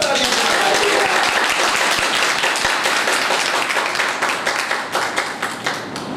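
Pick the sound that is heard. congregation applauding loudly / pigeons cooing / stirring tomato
congregation applauding loudly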